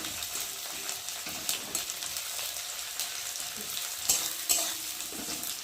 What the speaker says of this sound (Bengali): পেঁয়াজটা একটু ভালো করে ভেজে নেবো লাল করে